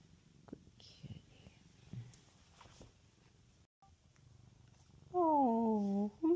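A pet cat named Betty purrs with a soft, low, faint rumble close by, and a person speaks to it affectionately in a high, cooing voice near the end.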